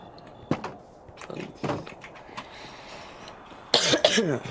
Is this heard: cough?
yes